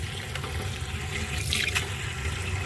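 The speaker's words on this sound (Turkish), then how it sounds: "gördüğünüz gibi şiş zeytinlerimi güzelce yıkıyorum" Brined green olives washed under running water in a sink, a steady close splashing and pouring with a brief louder gush midway, no voices.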